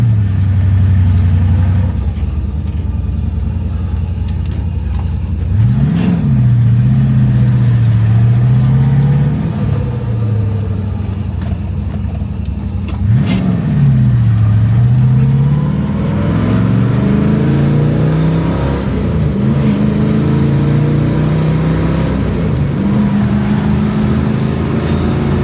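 A 1965 Ford Mustang K-Code Fastback on the move, its V8 engine revving up and down through several rising and falling pulls, loud and close from inside the car.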